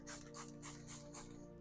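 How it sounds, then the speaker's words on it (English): A spray bottle misting a cardboard grow bag for oyster mushrooms, four quick hissing squirts in an even rhythm, close and clear over a steady low hum. "I'm going to spray it a bit because they feel real dry"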